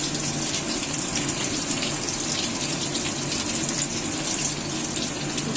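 Boiled potatoes for aloo dum frying in hot oil, a dense, steady sizzle and hiss holding constant throughout without pause.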